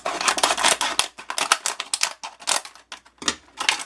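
A plastic bottle being cut in half produces a rapid series of sharp, close snipping and crunching clicks in an irregular rhythm.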